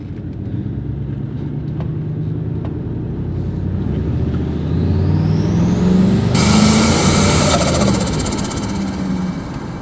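A turbocharged Chevrolet Silverado pickup engine revs up, rising in pitch before a loud surge of acceleration with hissing, whooshing turbo intake air noise near the end.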